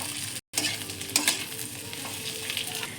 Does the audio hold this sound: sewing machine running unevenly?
no